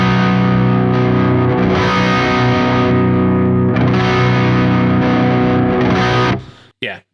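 Distorted electric guitar through signature Fishman pickups, loud sustained chords ringing continuously for about six seconds before cutting off abruptly, followed by a brief short burst.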